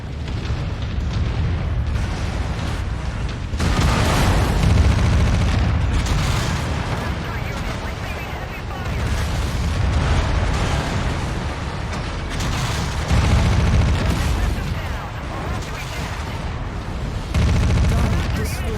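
An enemy elite mech in MechWarrior 5 fires heavy weapons in sustained booming volleys with blasts and rumbling impacts, loud and continuous, while players shout over the barrage.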